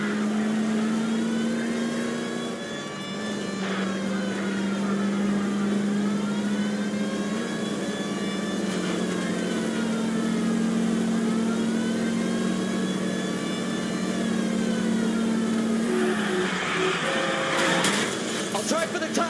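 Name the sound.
car engine revving during a chase in the video game L.A. Noire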